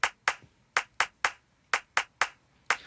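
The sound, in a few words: sampled hand claps chopped into three in a row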